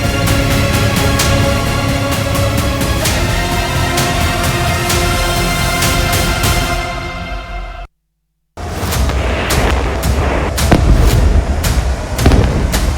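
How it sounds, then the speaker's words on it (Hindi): Loud explosions from an Israeli strike in Lebanon crack repeatedly over a rumbling background, broken by a brief silent gap before more bursts and booms follow. "लेबनान में इजराइल के इस धमाके ने नेतन्याहू के इरादे साफ कर दिए हैं।"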